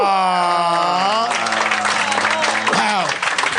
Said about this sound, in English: That's the best way to get a clap from the audience ever.